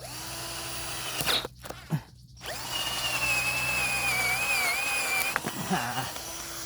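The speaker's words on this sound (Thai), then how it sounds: "โอเคเดี๋ยวผมจะเจาะให้ดูนะครับ เจาะแป๊บ PVC ก่อน" A power drill bores into a PVC pipe, the motor whining steadily at close range with a few short stops and restarts between bursts of drilling.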